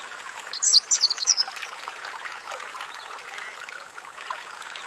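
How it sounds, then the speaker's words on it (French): AI-generated birdsong from Meta's AudioBox: a brief cluster of bright chirps near the start over a steady trickling, stream-like water background that continues alone afterward. "Donc là on a coupé le bruit des oiseaux."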